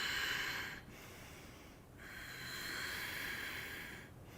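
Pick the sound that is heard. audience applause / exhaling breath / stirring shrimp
exhaling breath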